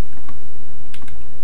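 Computer keyboard keys clatter in quick, uneven bursts during platform gameplay of Crystal Caves, close and fairly loud, with a low background hum and no talking.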